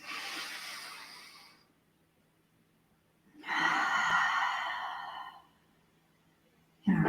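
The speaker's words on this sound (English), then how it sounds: "2 more breaths." Slow, deep breaths during a yoga session, with two long audible exhales through the nose or mouth separated by quiet pauses, close and clear, with no talking.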